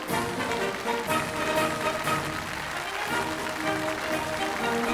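A Yue opera Spring Festival gala audience breaks into sustained, dense applause welcoming three teams onto the stage, a continuous crackling wash of clapping.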